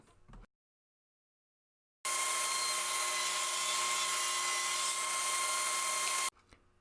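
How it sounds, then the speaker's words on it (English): A table saw with its fence set rips a board down to six inches wide: one loud, continuous high whine lasting about four seconds, close up, with near silence before and after. "At the table saw, I set up my fence to rip the board down to 6 inches wide."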